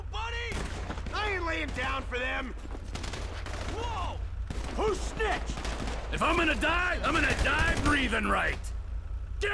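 Rapid bursts of automatic gunfire from GTA 5 gameplay during a bank robbery, loud and continuous, with shots layered over excited voices shouting and a steady low hum underneath.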